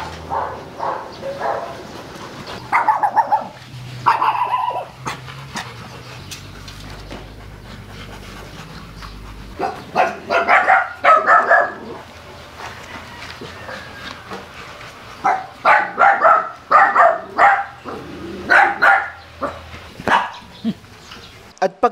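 Dogs panting and giving occasional short barks and whimpers, fairly close, with bursts of activity separated by quieter stretches.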